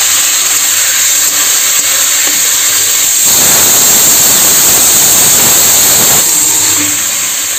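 Chillies and tomatoes sizzle in a hot pan, a steady loud hiss that swells sharply for a few seconds mid-way before easing back to a softer frying crackle.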